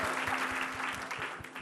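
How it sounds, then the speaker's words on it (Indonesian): Enthusiastic audience applause during a church sermon: dense, steady clapping from a crowd fills the whole stretch at a fairly even volume, with no voices over it. "berikan tepuk tangan buat cerita dari Eka"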